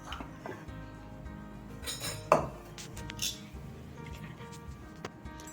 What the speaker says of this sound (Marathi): आता आपण सर्व करण्यासाठी एका प्लेटमध्ये काढून घेऊयात